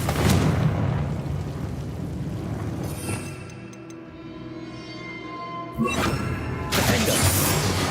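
Confringo fire-blast spell bursts in Hogwarts Legacy, a loud broadband boom around a dense rumbling game soundscape, with a quieter lull midway before a second sharp burst flares up near the end.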